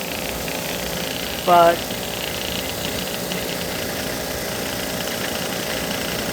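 Rock tumbler running with poly pellets and amber, a steady low rumbling drone throughout, with a brief louder tonal blip early on and a single spoken word.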